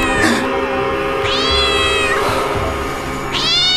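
A cat meows loudly and close by, three drawn-out, rising wails with short pauses between them over faint background noise, no talk.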